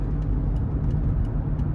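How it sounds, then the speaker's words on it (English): A 2013 Toyota Highlander Plus drives on the road, heard from inside the cabin as a steady low engine and road rumble with constant tire noise and no talking. "let's go ahead and take this 2013 Toyota Highlander Plus out on the road for a quick test drive"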